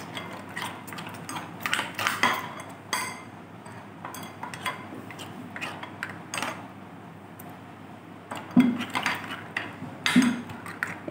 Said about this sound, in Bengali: এবার ব্যাটারটা খুব স্মুথলিভাবে আমি ফেটিয়ে নেব।